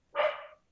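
A dog gives a single loud, close bark, a short burst that rises sharply and trails off, heard alone without any talking.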